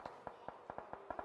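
Close-range spray of rapid gunfire from a UMP in PUBG Mobile during an esports tournament match, a quick run of about a dozen sharp, fairly quiet shots over a second or so.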